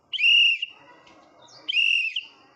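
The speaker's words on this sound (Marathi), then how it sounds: "तू काय वाजवती बाळा? शिट्टी वाजवती का?" A two-year-old girl blows a toy whistle twice, producing two bright, sustained shrill blasts with a short pause between them, fairly close, while an adult speaks softly in the gap.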